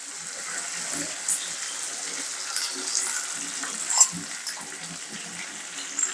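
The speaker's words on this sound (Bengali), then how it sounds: "ভাজতেই থাকবো ভাজতেই থাকবো ভাজতেই থাকবো" Beef kala bhuna frying in a pan, a continuous hissing sizzle with occasional soft stirring knocks, fairly quiet and steady throughout, with no speech over it.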